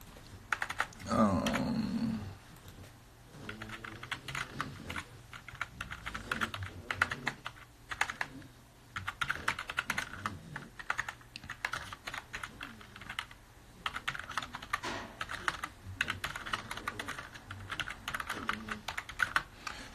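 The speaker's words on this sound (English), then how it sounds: "I type kind of ridiculously with one hand." One-handed typing on a computer keyboard during a live stream, irregular bursts of clicky keystrokes with brief pauses, close and fairly loud, with a voice speaking briefly at the start.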